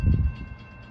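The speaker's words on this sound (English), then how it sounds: "this time we have another northbound CSX train headed our way" A northbound CSX freight train approaching a level crossing in Folkston, a brief low rumble with rail noise, louder at first and then fading slightly.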